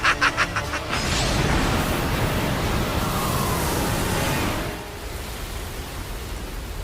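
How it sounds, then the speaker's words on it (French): Roaring storm wind in an animated Beyblade Metal Fusion episode, a loud sustained broadband rush that swells after a few sharp opening hits, then eases to a steadier, lower roar. "Quelle tempête!"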